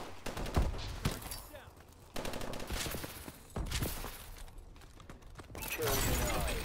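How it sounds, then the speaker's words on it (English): Repeated bursts of automatic and single-shot gunfire from Call of Duty: Advanced Warfare multiplayer combat, close and loud, with irregular volleys and brief gaps over game noise. "Somebody's shooting at me."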